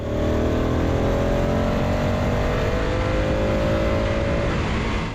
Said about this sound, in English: we cover rolling acceleration, starting with 80 km per hour to 120 km per hour or 50 miles per hour to 74 miles per hour in third gear